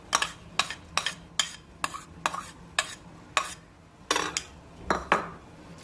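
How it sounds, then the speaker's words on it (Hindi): A spoon stirs macaroni salad in a bowl, giving about a dozen sharp, close clinks and scrapes at an uneven rhythm over a quiet background. "अब मैं चम्मच की स्पून की मदद से इसको मिक्स करूँगी"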